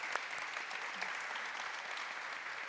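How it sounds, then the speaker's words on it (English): An audience applauds after a panel at a climate change conference, a faint, even, sustained patter of many hands heard from a distance, with no speech. "please join me to give a round of applause"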